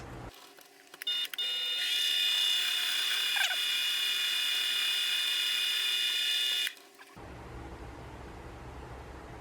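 A lathe boring bar cuts inside a brass part for a steampunk Logitech M325 mouse, giving a steady high-pitched ringing whine that holds for about six seconds, then stops abruptly into a low motor hum.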